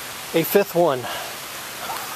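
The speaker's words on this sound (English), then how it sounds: "We get out of the rain here" Steady rain falls in an outdoor setting, a soft continuous hiss running under a brief stretch of close speech and then continuing on its own.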